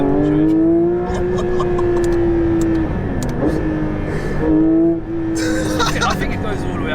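A Porsche 911 GT3 RS engine holds a loud, steady high-rev note with brief dips and recoveries in pitch, with voices talking over it.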